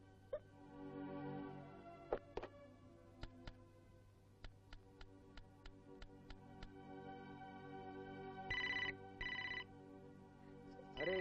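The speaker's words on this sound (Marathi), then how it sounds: "एका ठिकाणी फोन सतवतो" A telephone rings with a regular run of sharp metallic chimes over a quiet low background, followed by a few louder electronic bursts near the end.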